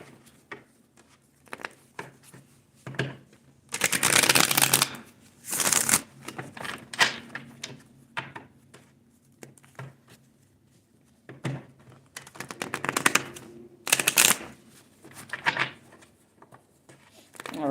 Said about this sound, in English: I want to shuffle these cards good because I feel like they don't be shuffling well.